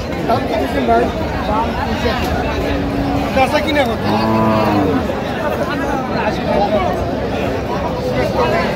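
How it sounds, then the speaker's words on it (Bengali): Cows and calves low at a busy Aftabganj cattle market, with a drawn-out moo near the middle over constant crowd chatter and nearby voices talking. "গাভী বাছুর আমরা দেখছিলাম এখানে"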